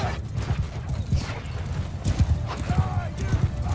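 Horse hooves clip-clop in a rapid, dense patter as mounted troops gallop across a battlefield in Mount & Blade II: Bannerlord, with someone talking over the steady drumming.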